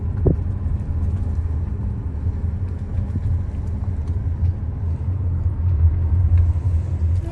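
Dodge Ram trucks roll past on a road with a continuous low engine and tyre rumble, a steady nearby drone that swells slightly toward the end, without talking.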